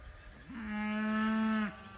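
A Dexter cow gives a single loud, close moo lasting about a second, out in a pasture.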